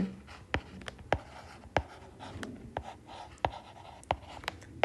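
A pen scratches across paper during a class 9 math lesson, with sharp irregular strokes and taps over a faint background hiss and no talking.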